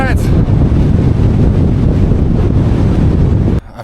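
Strong wind buffets the microphone in a loud, continuous low roar on the Karakoram Highway in Xinjiang during a cycling trip, cutting off abruptly near the end.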